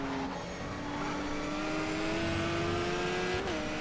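Race car engine in the GTR 2 racing game, a steady, close throttle whine climbing gradually in pitch as the car accelerates, then briefly dipping near the end, with no speech over it.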